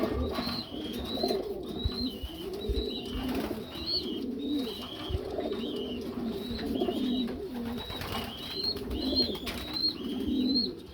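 Several pigeons coo continuously in low, throaty rolling calls, close and steady, with faint higher chirps in the background.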